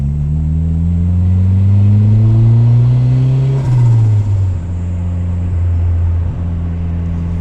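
Loud, close drone of a turbocharged Honda Civic engine on a stock ECU, its pitch climbing steadily for several seconds, then dropping sharply and settling into a lower, steady hum.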